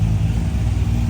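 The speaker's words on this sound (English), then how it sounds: "look, it's idling really well" A restored Holden LJ Torana GTR XU1 sits idling close by, its engine giving a loud, steady low rumble with an even, unbroken rhythm and no talk over it.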